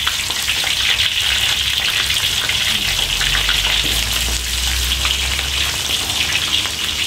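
Basket fish, ikan keranjang, fries in hot oil with a steady, loud, dense sizzle that holds evenly throughout with no talking.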